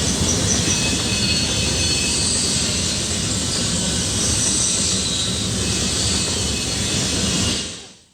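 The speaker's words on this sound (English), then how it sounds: "But we're on a train." Steady rumbling roar of a moving train heard from inside a carriage, loud and continuous with a faint high hiss on top, then fading out abruptly at the end.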